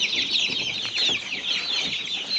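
Chicks in a coop cheep continuously, a dense high-pitched chorus of overlapping peeps at moderate loudness with no talking.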